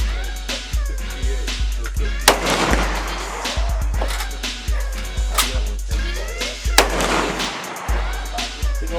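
FN Five-seveN pistol firing 5.7x28 rounds at an outdoor shooting range: loud, sharp shots spaced closely, well over a dozen in a row, with neighbouring gunfire mixed in.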